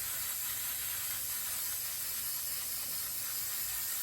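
A steady spray hiss comes as adhesive is sprayed onto the fiberglass headliner of a 2001–2006 GMC Sierra or Chevrolet Silverado crew cab, bright and continuous at close range.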